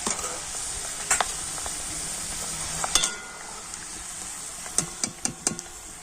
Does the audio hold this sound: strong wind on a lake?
no